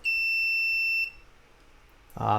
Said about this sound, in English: we're going to be lighting it up and turning on a buzzer today